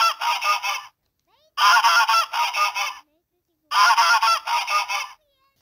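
A goose honks loudly and close by in three separate bursts. Each burst is a quick run of nasal honks, with clean silences between them.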